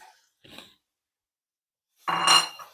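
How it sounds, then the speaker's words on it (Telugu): Boiled jackfruit seed pieces drop into a pan with a brief clatter, followed by a louder burst of sizzling or scraping against the metal. "ఈ పెట్టుకున్న ముక్కల్ని ఇందులో డ్రాప్ చేసేయాలన్నమాట"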